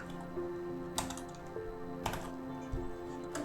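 Keys tapped on a computer keyboard while entering a short word in editing software, a handful of quiet irregular clicks over a steady low hum, close and unaccompanied by speech.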